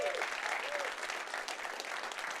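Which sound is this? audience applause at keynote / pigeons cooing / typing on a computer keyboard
audience applause at keynote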